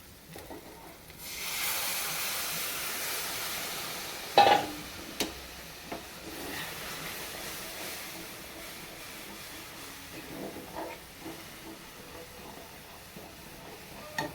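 Water poured into hot frying spices in a pan gives a sustained hiss and sizzle, with a few sharp clatters and scraping bursts along the way; no talking.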